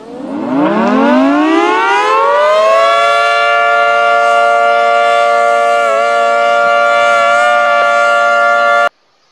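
An outdoor warning siren in the Roblox game Greenville, Wisconsin winds up from a low growl to a loud steady wailing tone, holds for several seconds, then cuts off abruptly.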